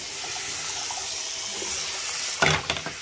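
Water runs steadily from a tap while parts of a Dyson DC07 vacuum cleaner are washed in a sink, with a continuous loud hiss and a few splashy surges near the end.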